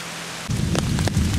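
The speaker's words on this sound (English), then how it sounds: "It is absolutely blimmin' bucketing down now." Heavy tropical rain pours down in the Taman Negara jungle, a dense continuous roar starting abruptly partway through, loud and close, with a few sharper drip or rustle bursts on top.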